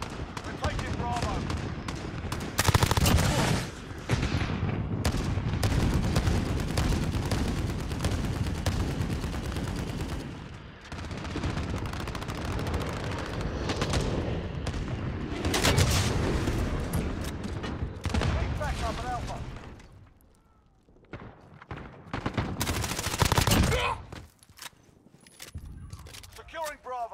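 A .50 cal machine gun hammers away in Call of Duty: Modern Warfare, with loud sustained automatic bursts and other gunfire layered over a battlefield din. There is a brief lull near the end. Game voice call-outs are heard throughout.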